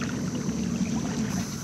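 Small boat's outboard engine running at sea off Sabah, Borneo, a steady low rumble with splashing water and wind noise, loud and continuous throughout.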